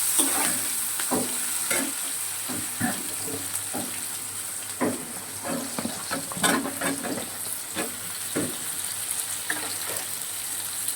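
Chopped onion frying in oil in a kadai after fish was fried, a steady close sizzle broken by repeated scraping stir strokes of a spatula against the pan.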